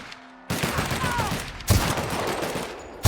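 Video game gunfire from The Outer Worlds, a dense rapid volley that starts abruptly and keeps going with harder bursts near the middle and end, loud and close, with a voice faintly under it.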